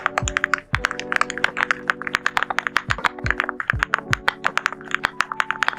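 Typing on an AULA F87 Pro TKL gasket-mount mechanical keyboard with Caramel Latte switches, PC plate and five dampening layers: a rapid, close, steady run of soft thocky keystrokes with occasional heavier bottom-out thunks, no talk.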